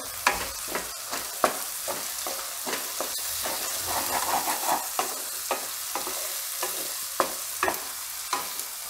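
Onion sizzles steadily in hot oil while a utensil stirs it, scraping and clacking against a pan in irregular taps over a continuous fry, close up, with no talking; cooked for a Gujarati tuvar na totha dish.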